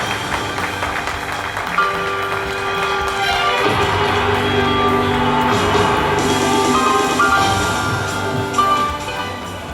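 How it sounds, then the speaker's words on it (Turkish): Audience at an award ceremony bursts into loud applause mixed with cheering and whoops, a dense sustained wash of clapping that swells midway and fades toward the end. "Büyük alkışlar."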